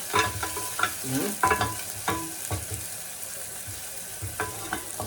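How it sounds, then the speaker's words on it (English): A spoon stirs food in a frying pan, making repeated scraping and knocking strokes at an uneven rhythm close by, over a continuous low sizzle. "we're gonna give this a good old stir"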